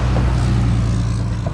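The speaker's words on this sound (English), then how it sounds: "I'm gonna let this truck pass by" A truck passes on the road beside a rider on a Kaabo Wolf Warrior X electric scooter, a loud, steady low rumble of engine and tyres filling the whole moment without any talk.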